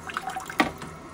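Water trickles and drips from the nozzle-clean function of a bidet toilet, with a brief louder splash midway over a soft running hiss; no talking.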